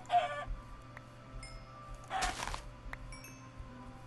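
A pink chicken in the Minecraft video game clucks in a few short, fairly faint bursts amid quiet alpine mountain ambience, with no talking.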